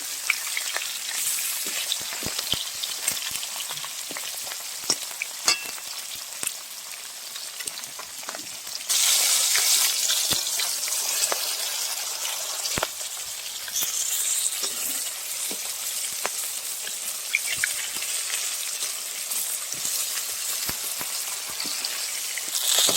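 Pieces of rui fish fry in oil in a village kitchen, giving a continuous close sizzle with frequent sharp pops and spits, growing briefly louder and hissier partway through, with no voices over it.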